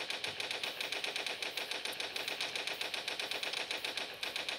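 Rapid automatic gunfire in the Toilet Monster hide-and-seek video game, a fast, even, unbroken rattle of shots, fairly quiet and with no talking.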